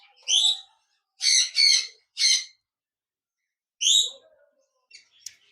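A pair of cockatiels in a cage give several loud, harsh squawking calls, some in quick succession and others spaced apart by silence, close to the listener.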